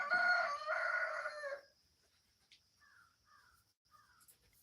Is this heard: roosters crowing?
yes